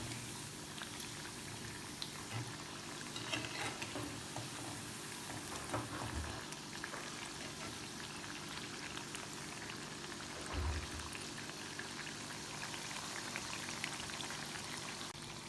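Chakli snacks fry in hot oil with a steady, dense bubbling crackle and soft sizzle, close and even throughout, with a few louder surges of bubbling.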